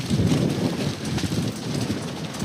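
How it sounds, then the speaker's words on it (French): Strong wind blows across an open-air pétanque venue during a Europétanque semi-final, a steady loud roar and microphone buffeting that fills the whole clip with no voices. "il y a un peu de vent"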